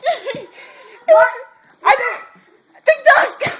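A dog barks and yips in short bursts near the microphone, three or four sharp outbursts with brief gaps between them, mixed with excited vocal sounds.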